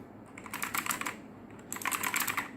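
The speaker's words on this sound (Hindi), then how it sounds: "टाइपिंग वगैरह इसकी करके देखते हैं कैसे करता है।" Typing on a Langu X6000 gaming keyboard: two quick bursts of rapid key clicks separated by a short pause, crisp and close with no talking.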